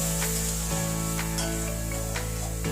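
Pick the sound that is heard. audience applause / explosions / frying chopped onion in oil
frying chopped onion in oil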